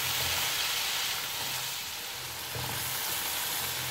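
Chicken pieces frying in a hot pan for chicken fried rice, a steady broadband sizzle with slight swells in intensity, no voices.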